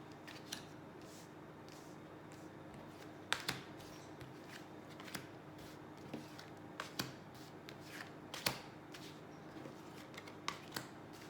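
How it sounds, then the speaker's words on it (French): Tarot cards are shuffled and drawn for a thirteen-card spread, giving soft quiet riffling with scattered sharp card snaps and taps, close and faint, with no talk. "Allez, tirage à 13 cartes."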